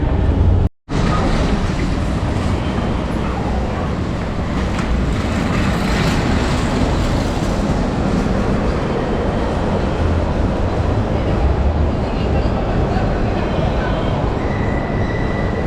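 Steady loud rumble and rattle of a Lisbon metro train running from the city centre to the airport, heard from inside the car, with a brief dropout near the start and faint squeal later.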